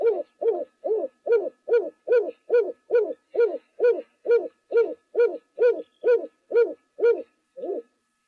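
Rhythmic low hooting coos from a pigeon at a waterhole, about fifteen evenly spaced calls in a clear steady series, close and alone against silence, ending after a short pause with one final call.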